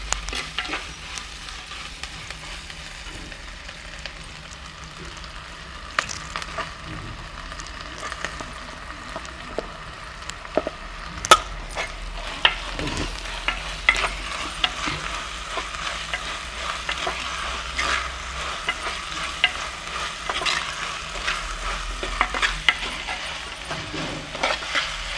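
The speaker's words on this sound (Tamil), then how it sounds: "இப்போ தக்காளியை போட்டுருவோம்" Tomatoes frying over ginger and garlic in a clay pot, a continuous soft sizzle with scattered sharp crackles and occasional stirring clinks, close and without voices.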